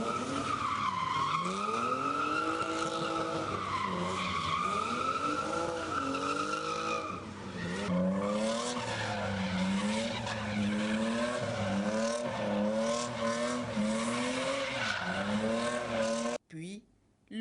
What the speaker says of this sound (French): D'abord le drift.